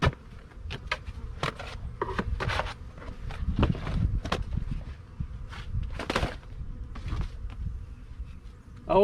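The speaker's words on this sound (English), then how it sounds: "The bees seem to be pretty calm today," Honeybees at a winter beehive give a steady low buzzing hum close by, with individual bees droning past and light rustling and footsteps mixed in.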